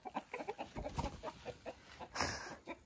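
Chickens cluck softly and steadily nearby in a quick, chattering rhythm, with one louder squawk near the end.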